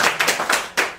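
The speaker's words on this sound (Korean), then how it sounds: "우리 박수 한번 하죠." A Buddhist Sunday dharma service audience claps together in a brief, loud burst of rhythmic hand claps, close and with no talking over it.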